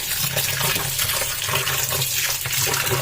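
Flattened rice (poha) being rinsed by hand in water for an instant dosa batter, a steady close splashing and sloshing with faint bumps of the bowl, continuous for about three seconds and unaccompanied by voices.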